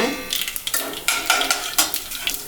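Chana dal and urad dal frying in hot oil with mustard seeds for upma, a crackling sizzle broken by repeated spoon strokes scraping through the pan, close and alone.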